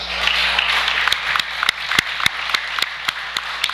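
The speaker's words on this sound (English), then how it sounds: "Crowd clapping" Crowd at a wrestling match between Sam Adams and Tony Deppen claps in a steady rolling patter, with a series of sharper, louder individual claps standing out near the front over the crowd's bed of sound.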